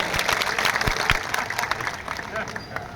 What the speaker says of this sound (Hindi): जरा इनके लिए भी ताली बजा दो एक बार।